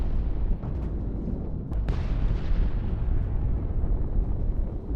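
Rocket explosions in a mech combat video game, a continuous roaring rumble of blasts with a couple of sharper impacts, loud and sustained throughout.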